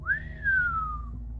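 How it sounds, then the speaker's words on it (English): A single arrow whistles through the air, one clear airy tone that rises quickly, then slides gradually downward as it passes, standing alone over a faint low rumble. "a whistle of something coming through the air"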